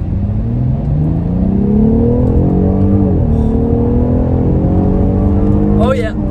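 The V12 engine of a 2020 BMW M760 pulls hard under full acceleration, heard from inside the car as a loud, deep rising drone that shifts once and keeps climbing, with brief speech over it.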